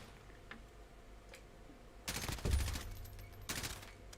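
Bursts of automatic gunfire in a shooter video game match, with faint scattered shots and then two loud, close rapid bursts separated by a brief pause.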